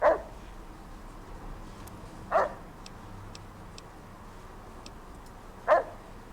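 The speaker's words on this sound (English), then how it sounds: "Bark, bark, bark." A robot dog in Fallout New Vegas gives three short barks spaced a few seconds apart, with faint ticking electronic blips between them.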